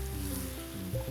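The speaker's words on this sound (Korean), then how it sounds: "새우는 튀김가루와 박력분을 1대1로 섞은 반죽을 입혀 튀깁니다." Batter-coated shrimp tempura fries in hot oil, giving a soft, continuous sizzle with faint bubbling, quiet and close.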